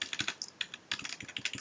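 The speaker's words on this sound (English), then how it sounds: "just type some slightly mysterious code, and then I'll explain what it does after I finish typing it" Code being typed on a computer keyboard for a programming lesson: rapid, irregular clusters of close, crisp key clicks with short pauses between bursts.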